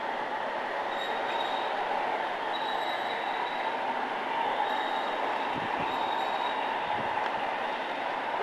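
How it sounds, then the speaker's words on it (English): Model garden train at the Phipps Conservatory in Pittsburgh running steadily along its track, a continuous rumbling rattle with faint wheel squeal and light clicks, fairly near and with no talk. "the garden train of Phipps"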